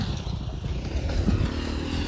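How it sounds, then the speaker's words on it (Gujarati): A motorbike rides over a rough, rain-hit road, its engine a steady low rumble through the whole stretch with bumpy rattling and scraping mixed in, fairly close and continuous. "બાઇક લઈને આવું છું હું આવા રસ્તા ઉપર"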